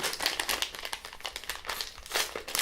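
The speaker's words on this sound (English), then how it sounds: "It's got like a papery opening" Close crinkling and rustling of a papery US M&Ms Caramel candy bag being torn open, quick irregular crackles over a couple of seconds.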